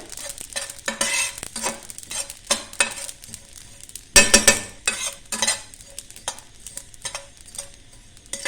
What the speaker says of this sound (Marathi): त्याच्यात ही खसखस जी आहे ती त्या तिळामध्येच टाकून घ्या आणि ती पण जरा परतून घ्या